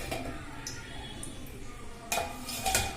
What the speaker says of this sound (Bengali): আমি ঢাকনাটা খুলে দেখে নেব আমার এটা কুক হয়েছে কিনা।